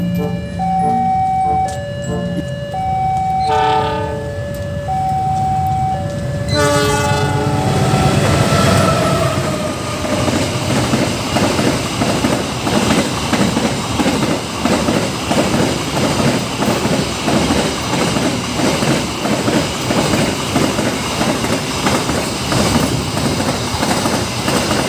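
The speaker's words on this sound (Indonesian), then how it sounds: "Kereta kontainer teman-teman." A container train passes close by after a crossing bell chimes, its loud rolling rumble carrying a steady rhythmic clickety-clack of wheels over rail joints for a long stretch.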